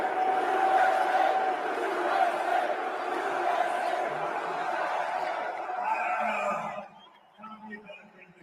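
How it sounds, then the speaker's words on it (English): A packed crowd at a Trump rally inside an indoor venue roars with sustained cheering and chanting, loud and steady before dropping off abruptly near the end. "This is the Trump crowd inside."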